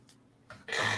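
A single person sneezes during a casual chat about Star Wars toys. Soft breathy sounds build up first, then a sudden loud, close burst comes near the end.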